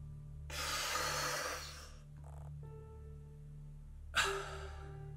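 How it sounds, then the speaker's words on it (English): A person draws a deep, audible breath in, holds it silently for about two seconds, then releases it in a sharp, close exhale. "just inhale, hold it for a second or two, and then exhale"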